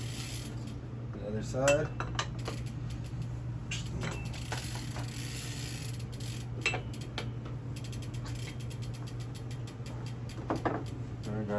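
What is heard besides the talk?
pedal wrench tightening BMX bike pedal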